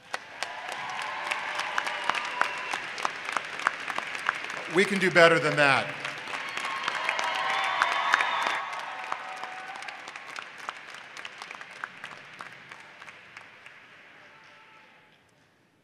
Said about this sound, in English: Please take a moment to thank them with a big round of applause.